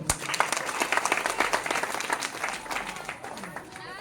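Enthusiastic applause from a large audience at a memorial day gathering, loud and dense at first, then gradually thinning and fading toward the end.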